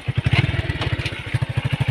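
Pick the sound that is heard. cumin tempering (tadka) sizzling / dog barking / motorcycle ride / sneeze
motorcycle ride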